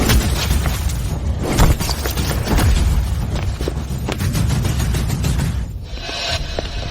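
Loud gunshots and impacts crack through a chaotic film fight scene, sharp bursts stacked over rumbling booms and scuffling, with no clear talk.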